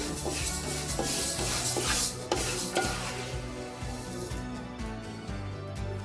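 Dry lentils rasp and scrape against a pan as they are dry-roasted and stirred continuously, a steady gritty rustle with occasional louder scrapes, close by.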